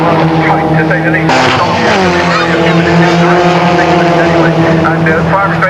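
F3 race cars compete at Castle Combe circuit, engines droning loudly and continuously with pitch shifts as they jostle for the lead, under steady commentary.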